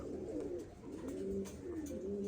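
A female pigeon coos softly in low, rolling phrases that repeat a few times. A faint hiss of background noise sits underneath.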